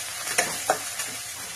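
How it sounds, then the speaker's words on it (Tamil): Curry leaves and onions frying in a pan, a steady close sizzle broken by two or three sharp spoon scrapes as they are stirred, with no voices. "கருவேப்பிலை சேர்த்து இந்த வெங்காயத்தோட சேர்த்து கொஞ்சம் நல்லாவே நம்ம கலரி விட்டுறலாம்"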